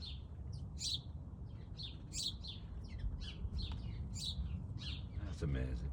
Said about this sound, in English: Blackbird scared him.